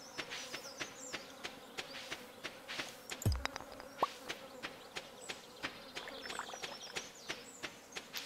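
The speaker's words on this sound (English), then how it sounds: "Sounds like there's bees over here." Bees buzzing in the video game Stardew Valley, a faint steady insect drone behind a regular ticking patter of soft footsteps and a couple of brief game sounds.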